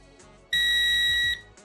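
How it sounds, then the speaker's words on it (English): A single steady electronic beep from a Pulse Dive metal detector entering dive mode, high-pitched and clear, sounds for just under a second in a quiet room, then stops. "wait for the long beep"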